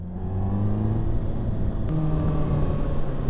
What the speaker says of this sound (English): It's probably the best stock sound I've ever had on a bike, ever.